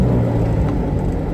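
A car with a constant-mesh gearbox runs while the driver double-clutches between gears: a steady, loud, close engine drone with a low rumbling hum and no voices.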